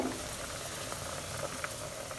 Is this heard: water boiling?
yes